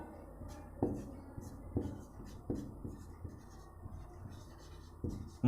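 Pen scratching on paper in a quiet room, a series of soft strokes and taps with faint pauses between them.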